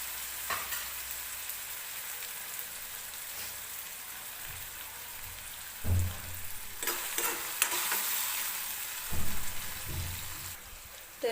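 Tomato frying in oil in a pan, a steady sizzle and crackle running throughout, with occasional louder stirring bursts and spatters; no talking.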